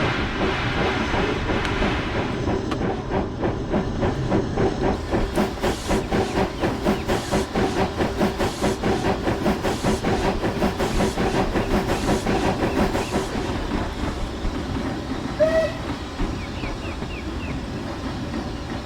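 A steam locomotive in the video game Train Simulator 2020 works hard with a steady rhythmic chuff and hiss, continuous clanking and wheel rumble, loud and close throughout.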